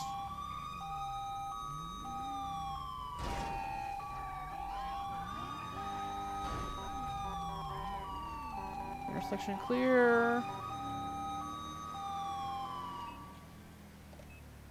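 A video game police siren wails up and down continuously alongside a steady electronic yelp, with engine rumble and a brief voice speaking partway through.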